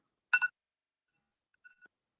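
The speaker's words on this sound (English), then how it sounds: "That's my alarm telling me it's time to go to sleep." A phone alarm goes off for bedtime: two quick bright bleeps close together, then after a pause two or three softer, shorter tones, all clean against silence.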